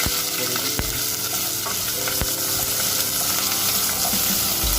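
Whole cardamom pods and small pieces of cinnamon stick frying in a pan over high heat, a steady dense sizzle with occasional sharp scrapes and clicks as they are stirred.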